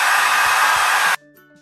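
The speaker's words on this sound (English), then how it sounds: "So I'm just going to use my hands and put the dryer on the second setting." A hair dryer on its cool-shot setting blows loudly and steadily up close for about a second, then cuts off abruptly, leaving a faint low hum.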